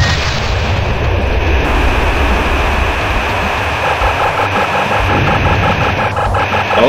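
Weapon fire from a jet aimed at a mech column in the combat flight game Fighters Anthology, heard as loud, continuous booming bursts over a steady jet engine roar, with no speech.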